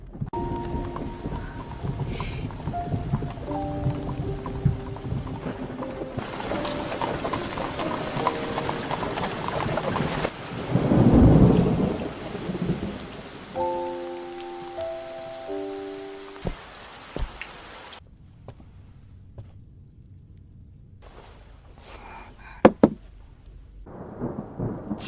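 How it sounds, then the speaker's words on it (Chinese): A heavy nighttime rainstorm hisses steadily, with a deep rumble of thunder swelling midway. Faint hoof clip-clops and soft musical tones accompany it in a historical drama scene. "今夜暴雨突至"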